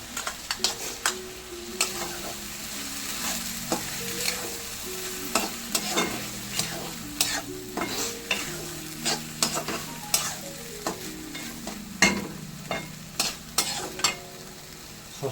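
A spoon stirs pizza sauce mixed with chopped tomato in a sizzling pan, giving repeated rhythmic scrapes and clinks over a constant frying hiss, with no one talking.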